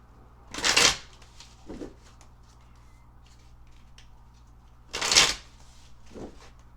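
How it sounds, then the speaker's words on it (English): A deck of tarot cards is riffle-shuffled twice, each a sharp, close, crisp burst followed by a softer tap as the cards settle, with quiet room tone between. "we'll shuffle the deck again for you"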